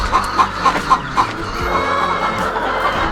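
Several village chickens cluck close by in quick, bouncy bursts as they are let out, followed by a steadier murmur of hens with no one talking.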